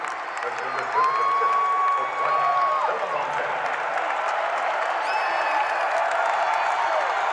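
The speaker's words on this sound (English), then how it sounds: "That gets this crowd into it." A basketball arena crowd cheers and applauds after a made shot, a loud sustained roar with whoops, while a commentator talks over it.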